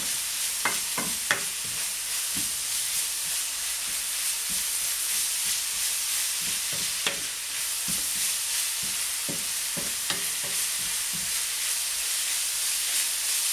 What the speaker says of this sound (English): So we'll just let that fry away for a little bit.